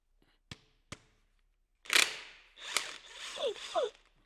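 A ratchet loosening socket cap screws on a Monarch 612 lathe gives two sharp clicks, then a burst of rapid ratcheting and a few quieter clicking sweeps, close and moderately loud.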